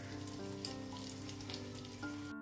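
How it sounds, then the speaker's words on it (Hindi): Chapli kebab made with raw mince and topped with a tomato slice, frying in oil over medium heat, a faint continuous sizzle with a low steady hum beneath it and a brief cut-off at the very end. "देखिए मैं इसको फ्राई करूंगी मीडियम आंच।"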